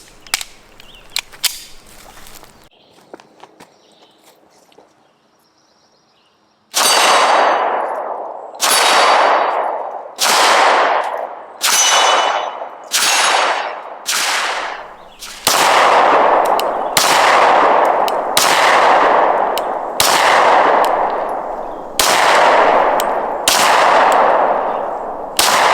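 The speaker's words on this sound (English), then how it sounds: "So I'm going to shoot Chad's MR920" Shots from a Shadow Systems MR920 pistol fired outdoors in hot weather: about a dozen loud, sharp reports, each with a short ringing tail, fired at a steady, unhurried pace after a few quiet clicks and handling noises.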